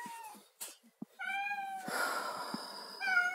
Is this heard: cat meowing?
yes